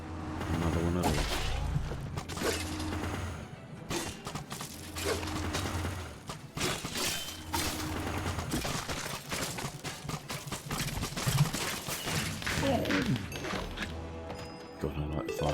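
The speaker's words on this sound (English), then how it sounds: "God, I like the firework." Fireworks in the Minecraft Dungeons video game crackle and pop in rapid bursts over busy game sounds, with someone talking throughout.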